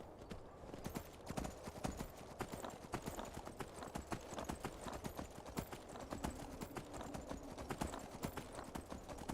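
Steady, rapid clip-clop of horse hooves from the Skyrim video game, a continuous galloping rhythm running throughout at even loudness.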